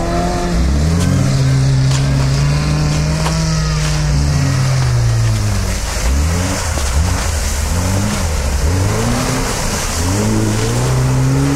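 A short Lada Niva with aluminium bumpers drives off-road through mud, its mid-pitched engine revving loudly and repeatedly rising and falling in pitch as it pushes on, close up with no talk.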